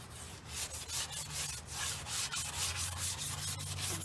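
A small scrubby dish brush rubbed back and forth over painted wooden furniture like sanding, giving a close, steady rhythmic scratching swish repeating about twice per second, with no talk.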